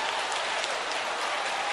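A worship congregation claps in a dense, continuous wash of hands, sustained and even throughout the short stretch.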